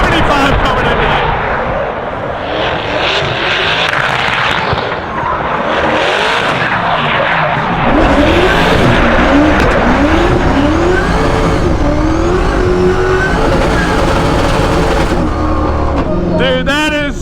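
A Can-Am Maverick R side-by-side and a built Corvette race offroad at the Freedom Factory, with loud engine roar, revving and tire noise throughout, under excited voices.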